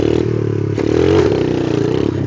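A motorcycle engine sputters and stumbles as its throttle falters, a steady loud chugging rumble close by with uneven clattering pulses and a brief rise in revs midway.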